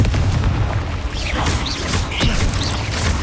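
A Confringo spell blast in the Hogwarts Legacy video game, fired in a cave: a loud, sustained rumbling boom with crackling bursts and whooshing effects layered over a low, dense roar.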